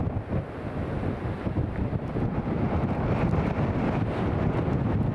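Strong wind at Newcastle International Airport roars steadily and buffets the microphone, a dense continuous rush with no voices.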